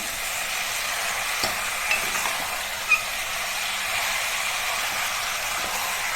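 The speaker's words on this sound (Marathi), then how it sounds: "हे आता आपण जरासं तेलात परतूया" Chicken pieces sautéing in oil in a pan: a constant loud hiss of frying with a few faint scraping stirs, close and steady throughout with no voices.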